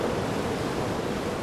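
Sea waves in the game Lost Odyssey produce a short, even rush of surf noise, a dense steady wash at moderate volume with nothing else over it.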